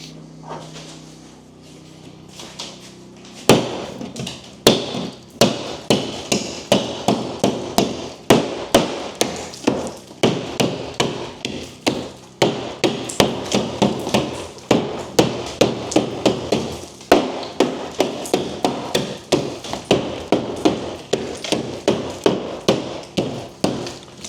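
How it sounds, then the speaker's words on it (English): Repeated hammer blows knock plasterboard off a wall during an Irish cottage renovation, a steady run of sharp, loud, close impacts of irregular rhythm following a few quiet seconds. "I want to break behind this plasterboard here and see what's behind this."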